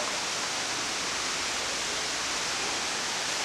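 Waterfall pouring as a steady, even hiss of rushing water, constant throughout and fairly close, with no speech over it.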